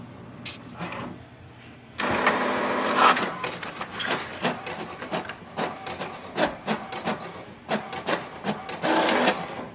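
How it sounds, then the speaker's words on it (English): An HP DeskJet 2855e printer prints an information page: a quiet start, then mechanical whirring and rhythmic clicking of the paper feed and print carriage, up close and continuing throughout. "Printer will print the information page."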